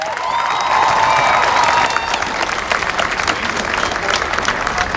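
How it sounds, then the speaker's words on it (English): Crowd clapping and cheering at an outdoor George Floyd demonstration rally in Winston-Salem, steady and loud throughout, with whistles and shouts rising over the dense applause. "Clap your hands!"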